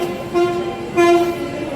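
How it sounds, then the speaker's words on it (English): A train at Ernakulam railway station in Kerala sounds two steady horn toots, each about a third of a second, over the constant hum of the platform, with no talk. "this is Ernakulam station"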